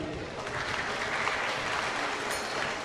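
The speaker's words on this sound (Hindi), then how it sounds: "कैसे बजता है ताली?" Hands clapping throughout from an audience at a Sunday feast lecture, a dense, steady applause that holds at an even level for the whole stretch with no pauses.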